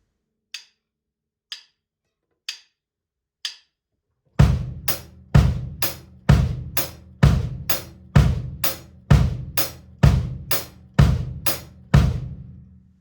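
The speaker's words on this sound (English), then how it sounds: "bass drum on the quarters, hi-hat with the right hand on the offbeat eighth notes" After four light clicks, a bass drum thumps evenly on every quarter-note beat while a sharp hand-played hi-hat lands on the offbeat eighth notes, a steady, close, dry groove.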